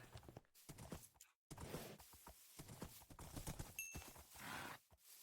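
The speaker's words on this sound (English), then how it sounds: "Can we test breeding these horses together?" Horses in the video game Minecraft, their hooves clip-clopping in steady walking rhythm with occasional whinnies, fairly close, with brief gaps of silence.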